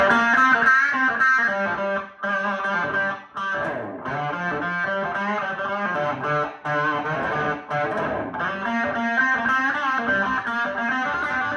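A Gibson Les Paul electric guitar plays a classic rock tone through heavy distortion and reverb, giving loud sustained chords and riffs throughout with only short dips. No voices are heard.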